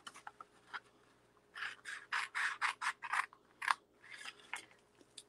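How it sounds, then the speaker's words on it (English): Scissors snip and scrape along a scored paper strip being trimmed for a handmade Easter basket, a run of short crisp rasping strokes in quick rhythm, close and fairly quiet, with no talk. "We're going to turn it and score or trim up again."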